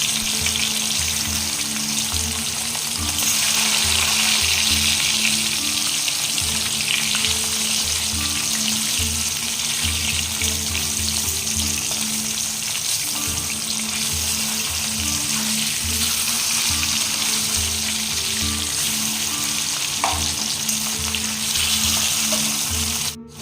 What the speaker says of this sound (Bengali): এই যে মাছ মাখানো ছিল, সেই মাছটাকে ভাজবো